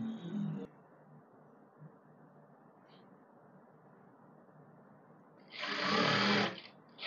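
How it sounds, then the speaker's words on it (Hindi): Sewing machine running a short seam along folded fabric for palazzo pants, one loud burst of stitching of under a second near the end, after a quiet stretch with a brief sound at the start. "उसके बाद हम यहाँ पे सिलाई चला देंगे"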